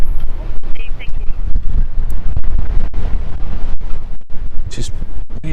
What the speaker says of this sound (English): Just really gusty.